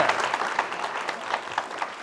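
A room full of people clapping their hands in applause, a dense, even patter that holds steady throughout with no voices above it.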